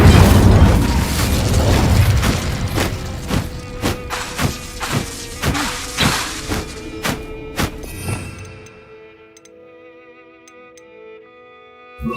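Video game spellcasting of Descendo, Flipendo and Incendio comes as a series of loud thumps and booming impacts at a steady pace, a rumbling burst at first, then separate hits before dying away to quiet.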